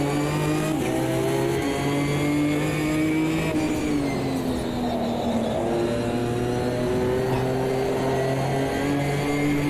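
Racing cars, a Ginetta and a McLaren, battle wheel to wheel at Snetterton in Automobilista 2, with loud, steady engine drones rising and falling in pitch as the throttle shifts, continuous and close, with no talking.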